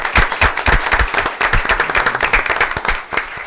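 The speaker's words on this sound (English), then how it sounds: "Let's give mine a set of applause." Applause at a town council meeting in Fort Mill, a small room of people clapping with many distinct close hand claps in a brisk, uneven rhythm, fairly loud and sustained.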